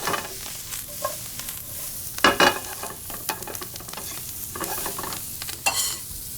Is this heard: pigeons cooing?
no